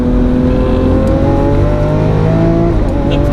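A Lamborghini Aventador S supercar engine pulls hard on the move, a loud, steady, dense mechanical roar with rich layered tones that holds constant and close throughout, with no voices over it.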